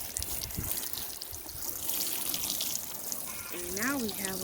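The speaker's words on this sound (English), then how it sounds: "What you're going to do is water our garlic." Water trickles and pours steadily over a garlic bed in a garden, a soft continuous wash with a voice speaking briefly near the end.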